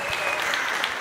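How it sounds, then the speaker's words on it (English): Soft applause sits in the background of an interview-style show, a steady spread of clapping at moderate level, with a few sharper pops scattered through it. "I hear the applause, the soft applause"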